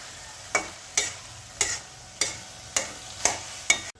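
A fenugreek dish cooking in a pan on a low gas flame, soft background sizzle broken by seven evenly spaced scraping stirs, close and moderately loud.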